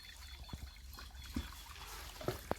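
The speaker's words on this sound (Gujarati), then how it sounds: "થોડું થોડું પાણી લીકેજ છે જતું છે" Faint water trickles softly through a small leak in a check dam, with a few tiny drips and splashes standing out over the quiet flow.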